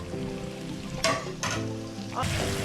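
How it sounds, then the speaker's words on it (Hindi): Tomatoes fry in a pan with onions for a potato and pea soup, a steady close sizzle with a few louder bursts as the mixture is stirred, with no voices. "अब इसके अंदर टमाटर ऐड करके हम भूनते हैं"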